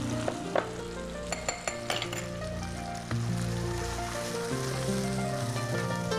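Mustard seeds fry lightly in a pan with a constant crackling sizzle and sharp little pops near the start. Steady tonal music plays underneath throughout.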